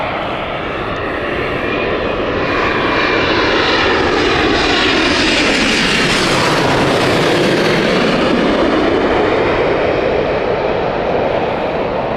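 A passenger airliner at Gatwick Airport roars past, its steady broadband engine rumble building and sweeping in pitch as it passes close, loud throughout with no talking.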